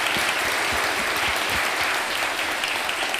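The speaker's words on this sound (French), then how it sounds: "Est-ce qu'on peut applaudir l'enfant qui a chanté au début de la messe?" A church congregation at Sunday mass claps for a child who sang at the start of the service, a dense, even burst of applause filling the room at steady volume with no speech.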